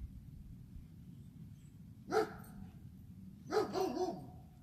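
A dog in a yard gives two short bursts of barking a little over a second apart, fairly distant and moderately loud over a low, steady outdoor rumble, with no one talking.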